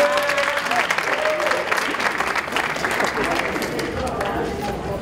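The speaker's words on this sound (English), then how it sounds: "Clap it up for the DJ, man." Crowd at a party clapping for the DJ, a loud continuous wash of applause and cheering voices with a faint tone of music beneath.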